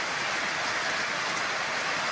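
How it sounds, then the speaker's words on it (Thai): Morning rain falling steadily, a soft even hiss of drops with no breaks, moderately faint and heard alone. "ยังหลบฝนอยู่พี่น้องซึ่งหลบฝนอยู่"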